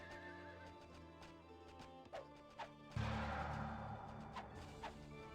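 Horses neighing and hooves clip-clopping in a real-time strategy game battle, with repeated whinnies and a crashing impact midway, busy game sounds with no voice.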